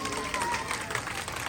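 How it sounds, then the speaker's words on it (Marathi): An audience of women at a song performance claps in a dense, continuous patter of applause, moderately loud, with faint voices and a trace of melodic tone mixed in. "जरा सगळ्यांच्या जोरदार टाळ्या वाजवा बरं"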